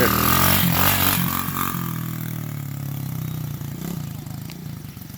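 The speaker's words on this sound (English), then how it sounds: "Now he's shifting gears." A dirt pit bike engine revs loudly nearby, its pitch climbing and dropping as it shifts gears, with a steady mechanical drone that eases off partway through.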